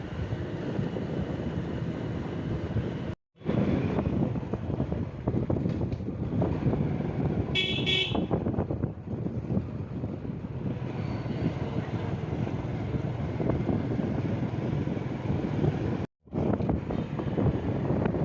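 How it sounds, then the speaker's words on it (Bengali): Constant roar of highway traffic mixed with heavy wind buffeting, broken by two brief dropouts. "গাড়ি আর বাতাসের শব্দে তোমরা যেন কেউ অতিষ্ঠ হয়ে যেও না কারণ হাইওয়েতে উঠেছি"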